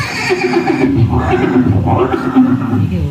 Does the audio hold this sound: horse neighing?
yes